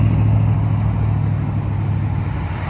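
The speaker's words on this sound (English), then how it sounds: "I'm sorry if you can't hear me because of cars" Road traffic outdoors, a continuous low rumble of engines with a steady hum, fairly loud and close, with no voices.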